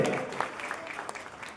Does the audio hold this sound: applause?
yes